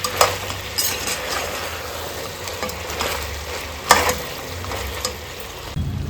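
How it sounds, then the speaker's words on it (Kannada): Pork pieces roast and fry in oil for pickle, giving a steady sizzle with occasional stirring scrapes and soft clatter, close and moderately loud, with no voices. "ನೋಡಿ ಈ ರೀತಿಯಲ್ಲಿ ಎಣ್ಣೆಯಲ್ಲಿ ರೋಸ್ಟ್ ಆಗ್ತಾ ಬರಬೇಕು."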